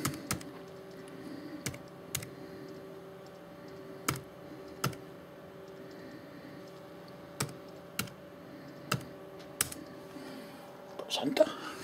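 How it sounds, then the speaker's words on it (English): Sparse, slow keystrokes on a laptop keyboard, single clicks spaced a second or more apart in a quiet room with a faint hum, ending in a brief quick flurry, with soft whispering. "I've got to type bloody thing in again, haven't I?"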